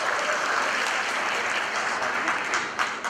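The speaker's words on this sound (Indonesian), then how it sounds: "Salut, tepuk tangan buat beliau." Sustained audience applause at a stand-up comedy show, a thick, even wash of clapping that carries on throughout, with a faint voice underneath.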